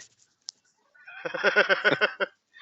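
A chicken makes a short rhythmic burst of clucking calls after a single sharp click, fairly close and alone against silence, as a comedy sound effect.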